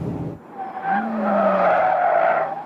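Race car tyres squeal through a tight hairpin-style corner while the car runs wide with understeer: a loud, sustained tonal screech that swells after a brief dip and holds strongly to the end, with no voices.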